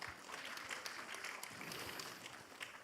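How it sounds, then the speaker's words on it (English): Conference audience applauding a speaker at an academic event on democracy and social transformation, a steady wash of clapping held at an even level throughout, fairly faint and without talk. "I think we need to give her applause."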